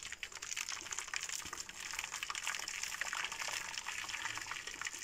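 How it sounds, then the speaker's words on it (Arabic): Water is poured from a container into a baking pan that holds a cake, giving a steady, faint, continuous splashing gush that runs unbroken for a few seconds. "ونكب مية عليها توصل"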